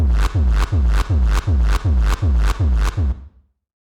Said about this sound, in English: we just put some quite harsh distortion on here